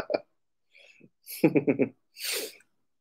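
A sharp sneeze bursts out after some soft breathy vocal sounds, followed by a quick exhale, close and fairly loud.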